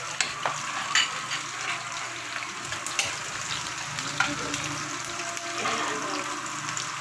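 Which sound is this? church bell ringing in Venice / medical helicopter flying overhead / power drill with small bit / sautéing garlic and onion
sautéing garlic and onion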